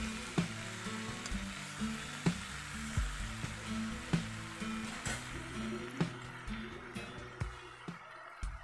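Mixed vegetables with salt and turmeric sizzle in a pan while being stirred, giving a steady fry with regular sharp scraping knocks of the spoon roughly every second, close and moderately quiet.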